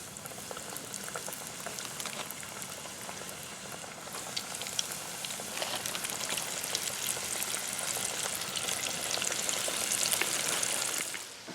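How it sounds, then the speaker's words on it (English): Pheasant and chukar nuggets deep-frying in hot oil, a dense, bubbling hiss that holds steady and grows slightly louder toward the end, close and continuous with no voices. "so now we got our nuggets fired up"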